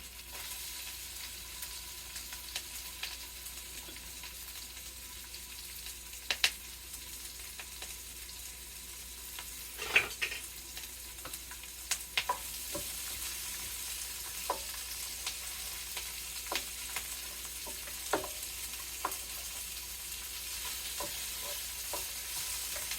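Peppers and onions sizzle steadily in a pan, a soft continuous hiss broken by scattered clicks and scrapes of stirring, with no talking.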